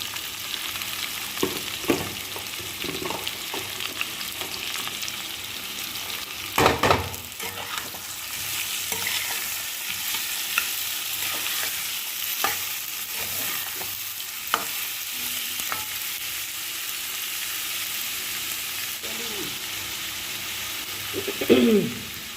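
Pre-boiled potatoes and onion fry in a pan and are stirred now and then with a spoon, giving a steady hiss and scattered scrapes. A pigeon coos faintly in the background, and no one speaks.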